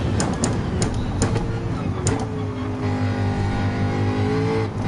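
The racing engine of the Pink Panther car in Gran Turismo 7 roars loudly during a Group 3 championship race as the car slipstreams. Revs climb and drop through several quick gear changes, with rising and falling engine tones.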